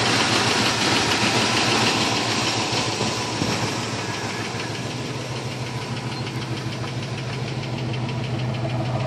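Chevy 350 V8 fitted with a Holley carburetor and Cherry Bomb mufflers idles loudly and steadily up close, with a rough, lumpy, knocking throb that holds constant throughout.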